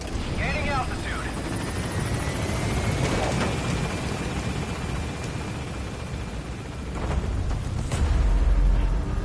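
Pequod helicopter from Metal Gear Solid 5 gaining altitude, a steady loud rotor and engine roar with rising intensity near the end, mixed with game effects and a brief radio-style voice early on.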